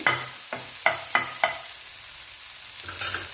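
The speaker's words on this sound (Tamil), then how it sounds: "லேசாக வதக்கி எடுத்தால் போதுங்க" Curry leaves are lightly sautéed in a pan, with four or five sharp spatula scrapes and taps in quick succession over a close, steady sizzle, then a brief pause before another stir.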